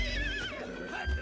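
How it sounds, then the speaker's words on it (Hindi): A mare neighs, agitated over her foal: a loud, wavering whinny that falls in pitch, close by, with a brief hoof thud at the end. "देखा तो घोड़ी अपने बच्चे के लिए तिलमिला रही थी।"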